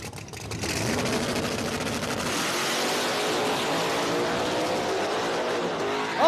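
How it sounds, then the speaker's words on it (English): Small-tire drag race cars launching at a racing event, a loud sustained engine roar building after a brief start, with tire noise blended in, close and steady to the end. "Oh, that's a drag race."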